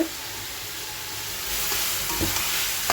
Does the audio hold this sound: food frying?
yes